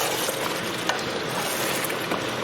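Chicken pieces on the bone, wings included, stirred with spices in a curry pan for karahi, giving a steady dense sizzle and scraping hiss that runs evenly throughout at close range.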